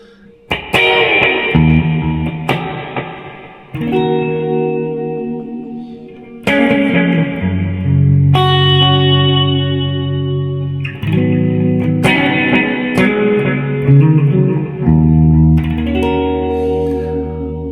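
Electric guitar with heavy effects, notes bending and wavering in pitch as the whammy bar dips and rises, played loud and sustained with reverb.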